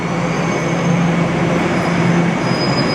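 A Toronto subway train rumbles loudly and steadily, with a high squealing whine from the wheels and a constant roar of the carriage.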